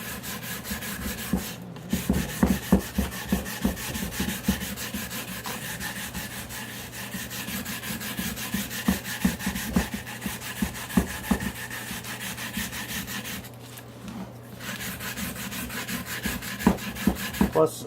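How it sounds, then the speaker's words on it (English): A pitch lap for mirror making is scrubbed to remove its shine, making a continuous close rubbing and scraping sound with rapid, irregular strokes over a steady low hum. "So we want to scrub it up until we take all the shininess off"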